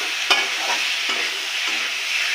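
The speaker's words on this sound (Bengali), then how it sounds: "এখন আমি ঝোল দিয়ে দিব" Vegetable fry sizzling in a hot pan as broth goes in, a steady bright hiss with a sharp clack at the start and faint stirring scrapes, no voices.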